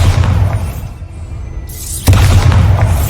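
The Bombarda explosion spell is cast in the video game Hogwarts Legacy, a loud deep booming rumble that drops away briefly and then surges back with a sharp blast and heavy low roar.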